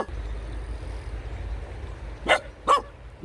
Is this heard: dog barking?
yes